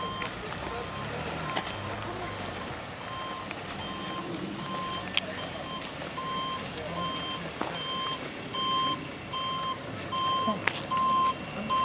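A vehicle's reversing beeper sounds repeatedly in a steady rhythm, with engine noise and outdoor background, and people talking nearby.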